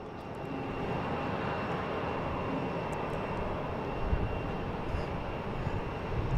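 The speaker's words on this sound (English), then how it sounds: "All right, got a bunch of planes playing around out here." Steady aircraft engine roar from planes at Boston Logan International Airport, a continuous broad rumble that swells slightly toward the end, with no talking.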